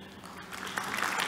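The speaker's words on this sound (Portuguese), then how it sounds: "Un fuerte aplauso para Moreiras." An audience at a talk on NTP and NTS time synchronisation breaks into applause after a presentation, a short burst of clapping that builds quickly and grows louder.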